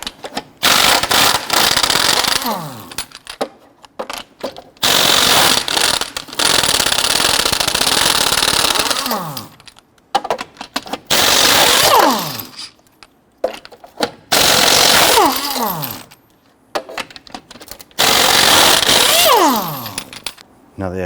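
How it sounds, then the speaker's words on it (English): An impact wrench fitted with a 22mm socket rattles off the lug nuts of a 2006-2014 Honda Ridgeline in five loud, close bursts, each a few seconds long, separated by short quiet gaps. "Using a 22mm socket, you want to go loosen and remove your lug nuts."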